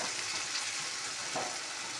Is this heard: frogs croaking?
no